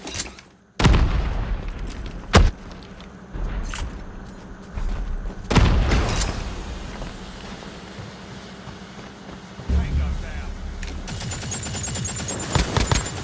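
Gunfire from Call of Duty Mobile, with an AK-47 mentioned, in loud separate shots and booming bursts spread across the stretch, backed by continuous game noise.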